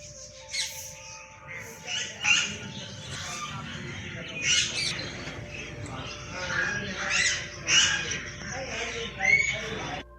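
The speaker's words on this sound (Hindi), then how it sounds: "और ये छोटे छोटे लिटिल कोरेला का एक समूह है।" A flock of little corellas squawks and screeches at a zoo in Jaipur, with repeated harsh bursts that come and go at close range over steady background noise, and people talk faintly underneath.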